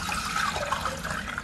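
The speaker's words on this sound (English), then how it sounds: "You'll put 4 cups of water right into there." Water pours steadily into a small saucepan, a short continuous splashing fill heard close up with no voices.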